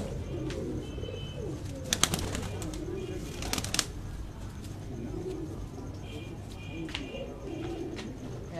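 A domestic racing pigeon coos softly on a house rooftop, low repeated murmuring calls at a distance, accompanied by a few sharp clicks or wing flaps and faint chirps from other birds.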